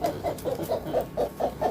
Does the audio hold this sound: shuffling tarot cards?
no